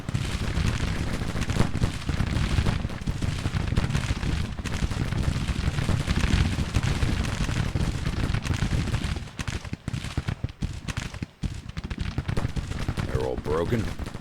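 Massed musket volleys from Civil War brigades rattle continuously in the strategy game GT:CW, a thick, loud roll of gunfire and distant booms that briefly thins before resuming, with a voice talking over it.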